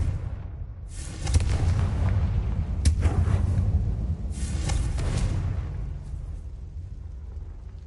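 Confringo blasting spells in Hogwarts Legacy go off as booming explosions, two or three broad bursts with roaring, crackling tails over a low rumbling game background.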